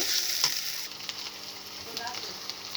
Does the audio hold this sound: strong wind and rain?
no